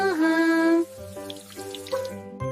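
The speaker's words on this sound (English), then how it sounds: "I take a shower." Running water from a shower, a close, steady stream with faint dripping and splashing, with no voices.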